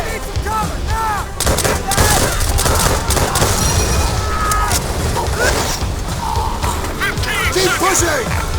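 Artillery salvo and rifle fire on a World War II battlefield in the World at War game, a dense barrage of booms and shots mixed with shouted voices, loud and close throughout.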